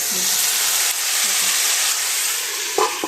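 Potatoes frying in a pan give a loud, steady sizzle up close, ending with a brief clatter.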